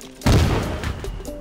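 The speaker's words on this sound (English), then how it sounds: "Okay, I'm gonna use a firework." A firework bursts in the Goat Simulator video game on Xbox One, a single sudden loud boom followed by a crackling, fading rumble.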